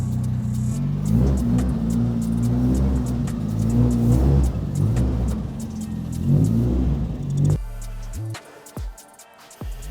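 A car engine idles and revs with a low rumble while the vehicle is guided into position, pulsing unevenly before cutting to quieter clicks and knocks near the end; no speech.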